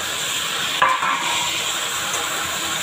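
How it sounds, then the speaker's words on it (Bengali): Papaya and pointed gourd frying in a pan give a steady sizzle with a brief clatter of stirring near the start, close and fairly loud throughout. "এটা আমি ফার্স্ট ভেজে ভেজে নিব"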